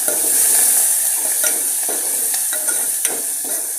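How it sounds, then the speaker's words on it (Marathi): Tomato and coriander sizzle steadily in a pan while a utensil stirs and scrapes at irregular intervals, the hiss constant and fairly close. "थोडीशी कोथिंबीर आणि थोडंसं टोमॅटो हे टाकून आपण चांगलं परतून घेऊ"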